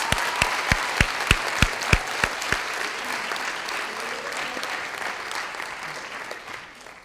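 Graduation ceremony audience applauding the graduating class, a few sharp distinct claps opening into broad sustained applause from a large crowd that gradually tapers off.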